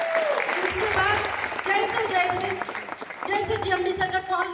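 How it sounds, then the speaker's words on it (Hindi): An audience claps steadily for a respected sir at a gathering, the applause a continuous patter beneath someone speaking loudly over it in Hindi. "मैं चाहती हूँ जीएमडी सर के लिए एक बार जोरदार ताली होना चाहिए"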